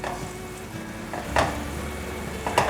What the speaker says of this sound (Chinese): 番茄酱1汤匙，有机凤梨醋1汤匙，冰糖1汤匙，把所有调味料炒匀